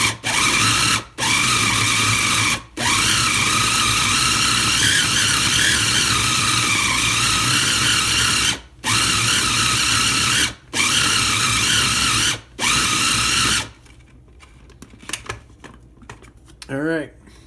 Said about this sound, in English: so I got all the meat ground up here